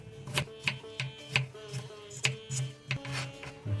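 A knife chopping green chili and ginger on a cutting board, about a dozen crisp evenly spaced thuds, close and clear with no talking.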